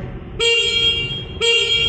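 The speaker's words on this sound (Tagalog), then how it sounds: "Pakinggan natin yung kanyang horn." A 2024 QJ Motor Fortress 160 motorcycle's stock horn gives two short, loud beeps about a second apart over a low idling engine.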